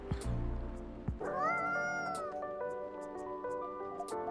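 A cat meows repeatedly in the video game Coffee Talk, with a drawn-out caterwauling call in the middle, set over soft background music with a voice talking at points.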